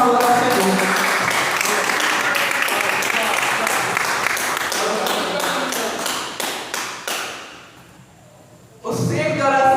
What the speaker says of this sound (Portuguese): E as palmas do Senhor.